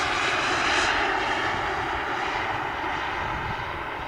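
Turbine engine of an RC Excalibur model jet on landing approach, a loud, steady airy whine and roar that slowly fades and drops a little as it passes and comes down. No talking.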